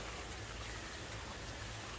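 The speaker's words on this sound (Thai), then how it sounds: "นี่ฮะฝนตกนะครับ" Steady broadband hiss of rain falling, even and continuous with no pauses, close by and fairly quiet.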